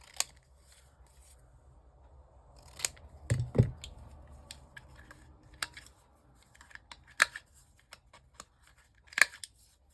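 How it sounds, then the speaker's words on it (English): Scissors snip at the edge of a paper page while a handmade book is assembled, giving a handful of sharp, close, isolated cuts spaced apart over quiet background rustling. "We can trim this just a smidge."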